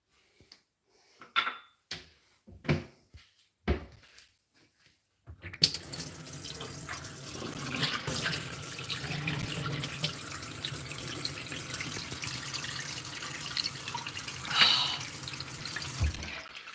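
Tap water runs into a small espresso cup after a few soft knocks and clinks, then pours steadily and fairly loud for about eleven seconds, with no talking.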